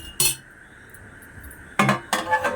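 A metal lid clinks down over a pan of simmering katla fish curry, with two more sharp clattering knocks following after a quiet pause, loud and close in a home kitchen.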